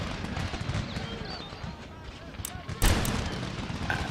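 Cannon firing a carcass shot in Empire: Total War (Darthmod, Netherlands campaign): a sharp, loud boom lands near the three-second mark, with a few lighter cracks before it, over a steady rumble of battlefield noise and distant gunfire.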